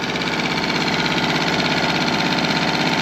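A Tohatsu 6hp outboard motor runs close up, giving a loud, steady, buzzing drone with a fast even pulse and no talking.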